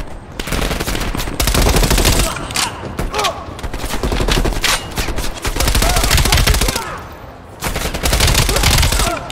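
Automatic gunfire from the video game Black Ops 6, sustained loud bursts of rapid shots filling most of the stretch with brief gaps between volleys, while voices talk over the action.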